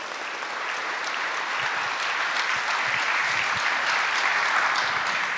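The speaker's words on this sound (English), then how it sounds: "They get my utmost respect and they too deserve a round of applause." Audience in a prison facility applauding correctional officers, a steady wash of many hands clapping that builds slightly and holds throughout, with no voices over it.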